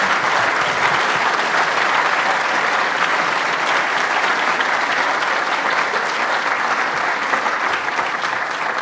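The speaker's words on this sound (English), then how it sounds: "you should give them a warm round of applause." Sustained, loud applause from a large audience at a civil rights roundtable, steady clapping filling the whole stretch without letting up.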